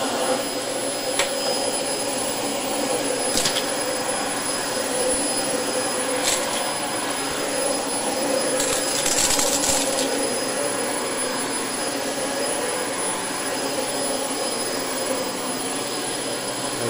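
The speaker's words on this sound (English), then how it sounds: "let me go over it again real quick with the DC-25" A Dyson DC25 upright vacuum cleaner runs steadily over fine dirt, giving a constant whining, jet-like hum at moderate distance with a few brief rattling clicks, and no talk.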